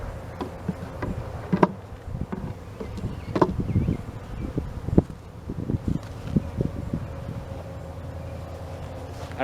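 Honey bees buzzing around a sugar water feeder with floating wood, a continuous close insect drone with scattered sharp clicks and bumps, and faint rustling.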